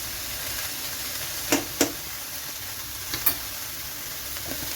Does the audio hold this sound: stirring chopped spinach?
yes